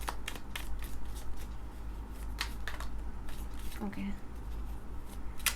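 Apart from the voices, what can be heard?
tarot cards being shuffled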